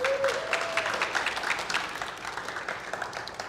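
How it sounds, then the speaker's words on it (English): Audience applause at a 1 Million Cups community business event in Brownsville, Texas: dense clapping from a room of people, steady and fairly close, tapering slightly toward the end, with a brief tonal squeak at the start. "Can you give another round of applause for Jaime?"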